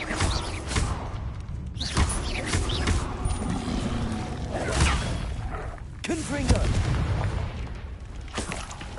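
Spell blasts cast in Hogwarts Legacy combat, a series of booming impacts, thuds and whooshes at irregular intervals, loud and close over busy game effects, mixed with a voice.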